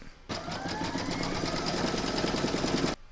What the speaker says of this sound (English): You're now going to put that back into your machine and stitch round number 17 to secure it.